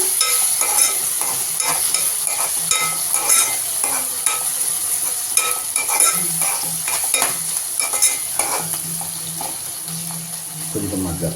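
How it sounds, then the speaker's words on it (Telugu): Chicken curry stirred in a pan as it stews in its own juices, with steady scraping and sizzling that runs throughout, close up, and a voice talking over part of it. "మగ్గినీళ్ళలో మంచిగా ఒకసారి తిప్పేసుకుందాం"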